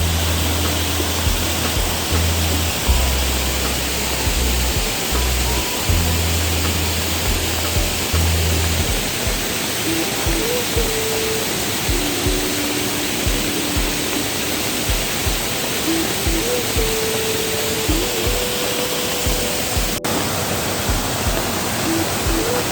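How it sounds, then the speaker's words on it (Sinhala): Rainwater from a heavy downpour overflows the Parakatiya channel at Lellupitiya, a steady broadband rush of pouring water that runs continuously, loud and close, with a few faint tonal calls drifting over it. "ධාරානිපාත වර්ෂාව හේතුවෙන් පීල්ල පිටාර ගලලා තියෙන්නේ"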